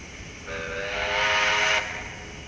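A Casula Hobbies Z12 model steam locomotive's sound decoder blows its steam whistle once for over a second, a chordal, slightly breathy tone rising above a low background hum, then cuts off.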